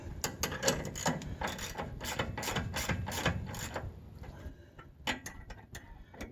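Ratchet working on the suspension bolts of a GMT 400 truck, giving a rapid run of close, crisp clicks that pauses near the end, then a few more clicks follow, with no talking.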